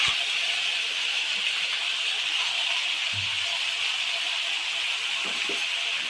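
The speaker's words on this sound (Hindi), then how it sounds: "अब इसमें कटी हुई सब्जियाँ ही हम डाल देंगे।" Chopped vegetables hit hot tempered oil in a pan for mixed sabji, giving a steady, broad hiss of sizzling with a few faint low knocks, close and continuous without talk.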